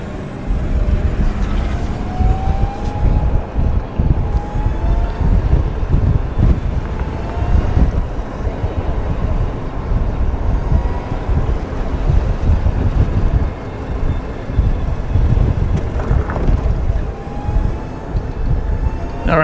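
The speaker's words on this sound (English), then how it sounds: "it's a pretty breezy day today" Strong wind buffets the microphone on a breezy day while riding in a DACH Apollo Elite 4 Forward golf cart, a loud continuous rumbling roar with gusty swells throughout.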